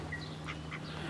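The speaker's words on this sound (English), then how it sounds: "Just watch the ducks." Ducks quacking in a group while food is thrown to them outdoors, several bright calls in quick succession over a steady low hum.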